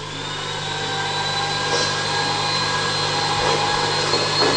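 An electric mixer at high speed whips eight egg whites with sugar for a mocha chiffon cake, giving a steady, continuous motor whir that holds an even level throughout with no talking.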